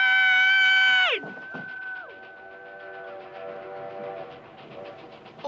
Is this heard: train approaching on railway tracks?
yes